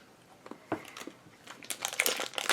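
Someone bites and chews milk chocolate candy up close, giving a run of crisp crunching and crinkly snaps that grow denser and louder toward the end, with no talking.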